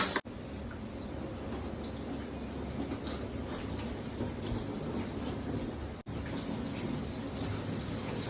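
Steady rushing splash of water being poured continuously into an air cooler, loud and close, with a brief pause near the start and another around six seconds.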